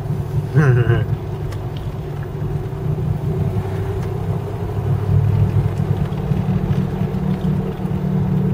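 A 1978 Ford LTD drives along with a loud, droning rear end and engine rumble, a steady low roar with wind noise throughout and a brief voice near the start.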